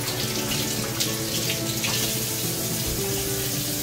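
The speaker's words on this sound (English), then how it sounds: "so now we're just going to rinse these off" Cabbage for sauerkraut is rinsed under a running kitchen tap, with water rushing steadily and loudly into the sink and splashing over the leaves throughout.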